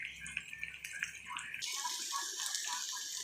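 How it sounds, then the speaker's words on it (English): Hot water poured from a kettle onto onions cooking in a pan, a splashing hiss that rises sharply and then continues as a steady bright sizzle and pour, close and fairly quiet with no talking. "I'm going to put in a little hot water to the onions just to help them along."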